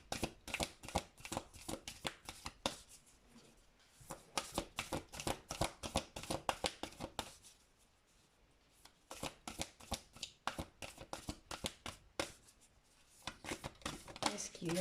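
Oracle cards being shuffled by hand in quick riffling bursts, crisp and close, pausing briefly midway before resuming; a voice speaks quietly now and then.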